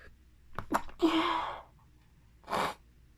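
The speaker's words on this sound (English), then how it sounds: "Sorry, I sneeze in my hands." A single sharp sneeze with a quick breathy intake before it, then a short exhale or sniff a moment later, close by with no talking.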